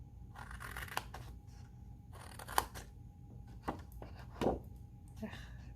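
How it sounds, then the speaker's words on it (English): Scissors snip through scored card stock while a treat box is assembled, a handful of short, crisp cuts spaced irregularly over a quiet background, with a voice talking in between. "And then we're going to go ahead and cut up to our first score lines."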